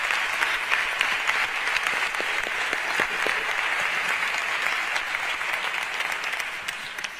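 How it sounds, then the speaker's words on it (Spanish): Sustained applause from an audience at a pregón in Córdoba, a thick, even roar of many hands clapping that holds steady for several seconds before easing slightly at the close. "un fuerte aplauso a la asociación"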